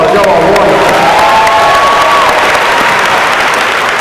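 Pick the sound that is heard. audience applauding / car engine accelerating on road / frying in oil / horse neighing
audience applauding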